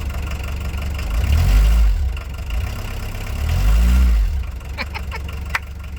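A camper van on a roadside trip in Spain runs on a hand-rigged improvised accelerator, its engine surging in two long low revving swells with idling between, close and loud, followed by a few sharp clicks and knocks.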